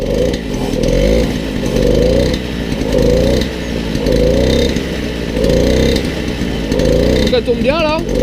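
A Peugeot 103 moped fitted with an Airsal 70cc kit runs loud and close, its engine note rising and falling in repeated rev surges throughout, with a short burst of voice near the end.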